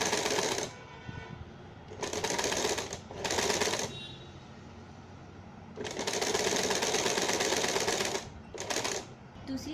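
A sewing machine stitches satin pleats in several separate runs, a close, steady rapid whirr starting and stopping between pauses.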